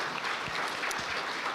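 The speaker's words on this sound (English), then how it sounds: "please let us again give ourselves a round of applause" Conference audience at an anti-money laundering and financial crime dialogue giving a round of applause, a brief, even burst of clapping from a hall full of people, moderately loud and steady.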